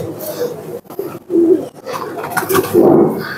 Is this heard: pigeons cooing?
yes